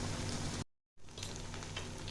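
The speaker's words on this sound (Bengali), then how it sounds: "এটাও লাল করে ভেজে নেব।" Malpua batter frying in hot oil until reddish, giving a loud, dense, close sizzle that cuts out briefly to silence and then resumes just as strongly.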